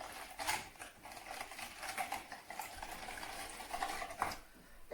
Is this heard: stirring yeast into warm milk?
yes